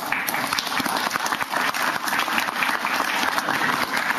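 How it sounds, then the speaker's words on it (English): Sustained applause from a sizable crowd at a political breakfast meeting, dense and even clapping filling the whole stretch at a fairly loud level. "You deserve a round of applause"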